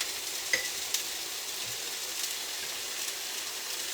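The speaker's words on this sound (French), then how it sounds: "Donc ça va caraméliser, là, ça va vraiment essayer d'enrober toute la butternut." Butternut squash coated in wildflower honey sizzling steadily in a pan as it caramelizes, a soft continuous frying hiss with a few faint clicks of stirring.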